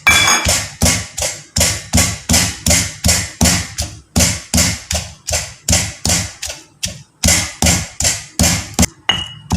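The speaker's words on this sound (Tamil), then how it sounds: "இப்போ மிளகாவை நான் இடிக்கிறேன் பாருங்கள்." Chili peppers being pounded in a mortar make a quick run of heavy, regular thuds, each strike sharp and close, repeating steadily with only brief pauses and no talk.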